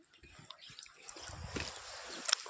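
A small amount of cooking oil poured while making a chicken dish: a soft, steady trickle with faint sizzling hiss and light clatter, close and continuous for a couple of seconds.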